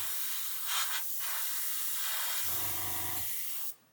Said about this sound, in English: I'm just using air now just to spray,